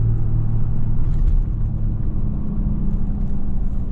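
A Ram pickup with a Cummins diesel engine, towing a trailer in tow/haul mode, gives off a deep, steady low hum and rumble that stays loud and close throughout with no talking.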